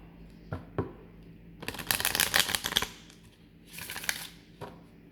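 A deck of wisdom cards is shuffled up close in quick riffling bursts, with a couple of light taps first and a shorter second shuffle after a pause.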